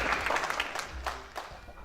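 Audience applause at the 2018 Prestigious Haitian Music Awards ceremony, a steady wash of clapping filling the hall for under two seconds, with a few sharper bursts standing out.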